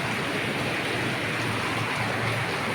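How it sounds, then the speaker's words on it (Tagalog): Steady rain pours down in a continuous, even hiss, loud and close, with no voices over it. "Umuulan."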